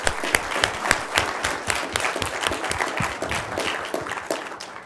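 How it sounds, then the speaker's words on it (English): An awards ceremony audience gives a round of applause for the event's sponsors, dense steady crowd clapping throughout at moderate loudness. "please join me in a round of applause for our sponsors"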